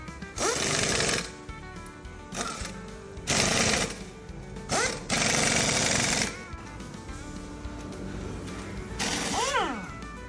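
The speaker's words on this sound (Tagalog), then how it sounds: "meron sila ditong impact wrench" Impact wrench tightening lug nuts on a car wheel during wheel spacer reinstallation in a shop; several loud, rattling bursts of one to two seconds each, with short gaps and faint voices between them.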